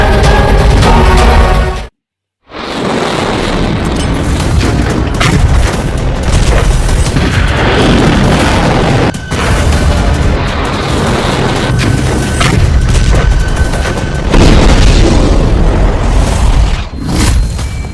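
A continuous barrage of deep, loud explosion booms roars from start to finish as a dramatic sound effect, broken only by one brief moment of silence near the start.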